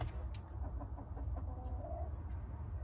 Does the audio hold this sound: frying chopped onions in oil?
no